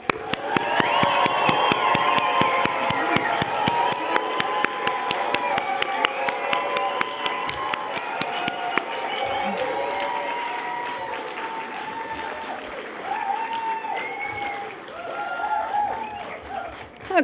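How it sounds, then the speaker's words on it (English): Enthusiastic applause and cheering from a small group at a PhD graduation ceremony, loud, dense clapping with whoops and shouts that gradually thins and softens, then swells briefly again near the end. "Let's hear the biggest applause and cheering that we can generate in this small group"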